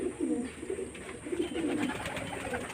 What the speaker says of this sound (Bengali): পায়রা বিউটিটা দেখুন এটা নর পায়রা